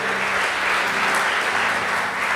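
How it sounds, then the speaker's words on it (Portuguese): A church congregation applauds God during a Portuguese-language service led by a bishop, with steady, dense clapping from a large crowd that holds an even level for a couple of seconds. "Quem pode aplaudir a Deus?"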